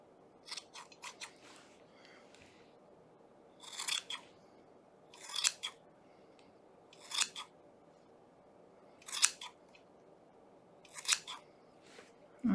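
Scissors snip through scrap yarn, trimming a tight pom-pom, in about six close bursts of quick, crisp cuts separated by short quiet pauses, with no talking.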